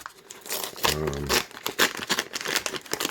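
Amazon packaging is torn open by hand with close crinkling and ripping noises in quick rough bursts, while a voice briefly sounds underneath.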